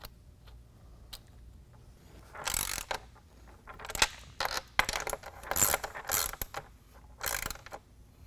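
A 13 mm wrench tightens nuts on a running board end cap on a 2011 Jeep Grand Cherokee, giving faint, close metallic clicks and ratcheting taps in irregular bursts.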